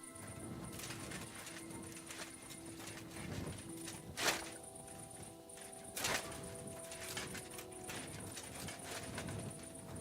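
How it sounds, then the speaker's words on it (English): Horse hooves clip-clop steadily in the video game Kingdom Come Deliverance 2, quiet and somewhat distant, with a couple of louder knocks over a soft ambient background. "I keep hearing horses, but I don't see fucking horses."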